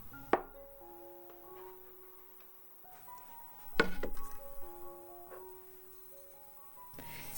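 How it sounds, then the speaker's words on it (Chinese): A knife cuts a peeled, cored apple into eight wedges, giving a few sharp chopping taps against a board, spaced apart with quiet gaps and faint clinks between, close and fairly soft. "苹果去皮去核后切成8瓣"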